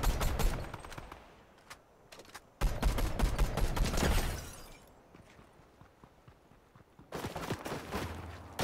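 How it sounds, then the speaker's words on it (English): Bursts of rapid gunfire in Fortnite, loud and close: one volley at the start, a heavier barrage in the middle and another near the end, with quieter ambient stretches between them. "Nope, I'm being fired at."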